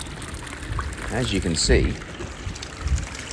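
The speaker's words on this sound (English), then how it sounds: "the water was actually pouring out the overflow" Water pours out of a pool overflow after heavy overnight rain, a continuous splashing trickle close by with someone talking over it.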